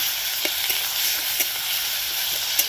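A chopped medium tomato frying lightly in a pan while making eggs, giving a steady, fairly loud hiss of sizzling oil with a few soft clicks of stirring, heard alone.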